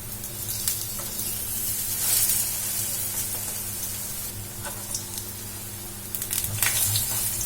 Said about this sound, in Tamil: ஆயில்ல போட்டு ஃப்ரை பண்ணி எடுத்துக்கலாம் இப்போ இது வந்து ஒரு சைடு நல்லா ஃப்ரை ஆகட்டும்